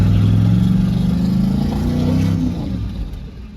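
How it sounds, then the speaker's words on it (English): A car with rear disc brakes does a burnout on grass, its engine revving loud and close, holding high before the pitch sags and fades near the end. "There's a burnout. In the grass."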